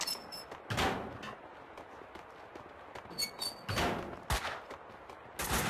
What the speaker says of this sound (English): Oh shit, gunfire.